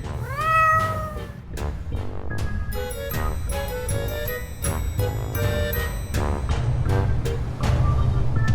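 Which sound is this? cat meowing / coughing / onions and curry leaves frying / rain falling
cat meowing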